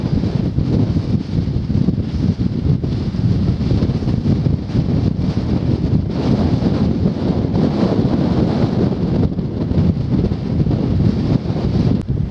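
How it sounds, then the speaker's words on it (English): Strong, steady wind roars and buffets the microphone on a coastal walk from Lewes to Seaford, a loud continuous rush with gusty surges and no voices. "As you can probably hear, wind is picking up."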